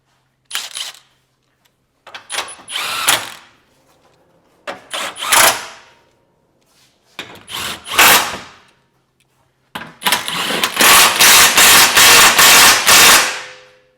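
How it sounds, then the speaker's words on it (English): Subframe bolts being tightened on a Honda Element, several separate bursts of a power tool's rattling hammer, short at first, then one long run, with quiet gaps between. "we're gonna go ahead and we're gonna tighten up our subframe bolts"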